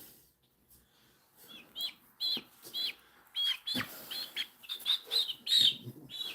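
Large Brahma chickens clucking and calling in short, high, repeated bursts, fairly close and moderately loud, with a quiet start before the calls pick up.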